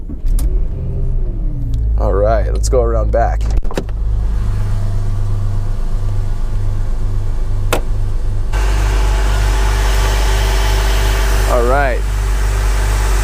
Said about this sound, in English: let's go ahead and start the car up and see how she sounds.